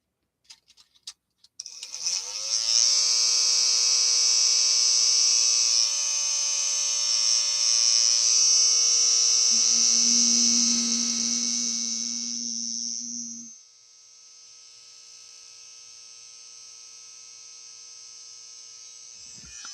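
A Snap Circuits Snap Rover motor fan spins fast with a loud, steady high whine and buzz, with a brief lower hum partway through before the sound drops to a faint tone.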